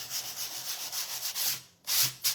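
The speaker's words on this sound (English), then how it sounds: "I'm just sanding all over it." Sandpaper rubbed back and forth over a wooden board to give it a weathered look, making steady close scratchy strokes with a brief pause before the rasping resumes.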